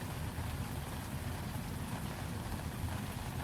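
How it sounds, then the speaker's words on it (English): Soft rain falls in a steady, even hiss, unbroken and moderately quiet throughout, with no voices or other sounds. "the rain starting to fall softly once more"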